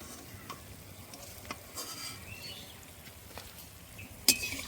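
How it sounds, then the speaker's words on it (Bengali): Potato pakoras made with boiled potato deep frying in hot oil, a soft continuous sizzle with occasional stirring clinks and one sharp metallic tap near the end, no voices. "এই পকোড়াগুলো ভাজতে কিন্তু খুবই ভালো লাগে।"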